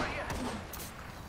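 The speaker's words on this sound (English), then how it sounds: "Opening fire." Bursts of gunfire in a battle royale video game, a few sharp shots close together, mixed with game sounds and a voice speaking over them.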